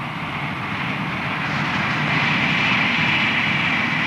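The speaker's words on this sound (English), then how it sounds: "Soon the sight and sound of a steam locomotive working a regular train up a heavy grade will be no more than a memory." A steam locomotive hauls a regular train up a heavy grade near Springs, giving a steady, loud, broad roar that builds slightly and holds for several seconds with no talking.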